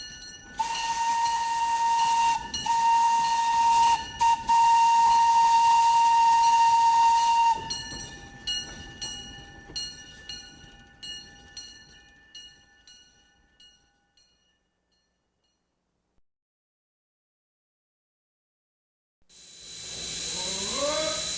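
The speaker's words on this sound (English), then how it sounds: "For about a century, such steam locomotives epitomized power." Southern Railway steam locomotive number 1401, the Jolly Green Giant: a loud sustained whistle broken by short gaps, then rhythmic chuffing and hissing that fade into silence before a new rush of steam rises at the end.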